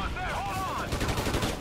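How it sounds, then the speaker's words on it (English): A short burst of gunfire from an enemy blind-firing in the video game Ghost Recon, rapid shots crackling over a moment of speech at the start. "that guy was blind firing"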